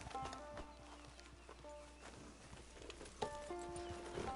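A horse stands at a hitching post in Red Dead Online, its hooves clip-clopping softly with a brief whinny, alongside faint tonal game sounds, all quiet and fairly close.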